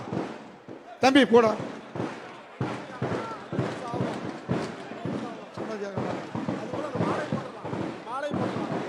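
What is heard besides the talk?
firecrackers exploding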